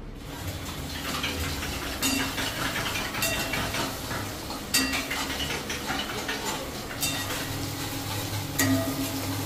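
Steady sizzling of food frying in a pan, with a spoon scraping and clinking against the metal at irregular moments.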